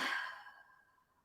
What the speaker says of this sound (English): Deep breath in and out.